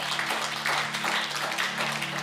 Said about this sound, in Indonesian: Kita beri tepuk tangan yuk bagi Tuhan.